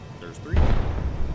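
An artillery round fires in the Arma video game, a sudden heavy boom with rumbling tail after a brief quiet lead-in, heard near and loud with a voice over the start.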